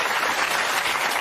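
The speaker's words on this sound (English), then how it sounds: "Give Jack a round of applause, guys." A TV talk-show studio audience applauds, a dense, loud wash of clapping that holds steady for about a second.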